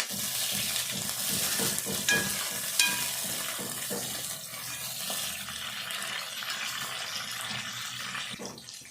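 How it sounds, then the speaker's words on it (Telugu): Chicken with onions, spring onions and turmeric sizzles steadily in a pan while a utensil stirs and scrapes at irregular moments, close and fairly loud, with no one talking. "ఇదంతా దోరగా మంచిగా వేగాలి"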